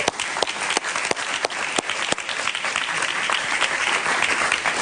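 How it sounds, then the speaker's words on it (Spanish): A Spanish-language television studio audience claps for an arriving guest, with brisk sustained applause, sharp individual claps popping out near the start, holding steady throughout. "Un aplauso para él, por favor."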